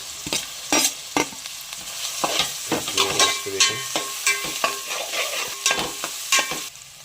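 Onion and green chili cooking in a pan with tomato for a monsoon-style stuffed crab curry: a soft continuous sizzle broken by repeated sharp spatula scrapes and clinks as the mixture is stirred, close and moderately loud.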